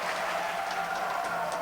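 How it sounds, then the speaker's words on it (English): Home crowd at a college basketball game between Florida and Boston University, a steady wash of cheering and applause heard from a distance, with no single voice standing out. "the home crowd has come alive"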